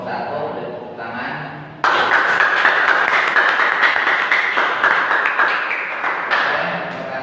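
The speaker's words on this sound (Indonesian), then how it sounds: "Beri tepuk tangan." Applause for a student group after a classroom presentation: many hands clapping densely and steadily, starting abruptly and continuing loud for several seconds, with a brief voice at the start.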